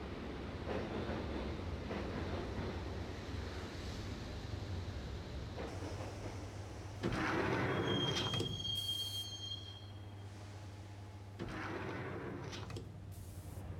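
A subway train rides along the tracks in the game Max Payne, with a low continuous rumble and rattle and a sharp, high metallic wheel squeal rising briefly midway, without any talking.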